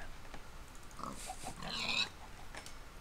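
Pigs in Minecraft give a few faint, short oinks and grunts, scattered and quiet over a low background.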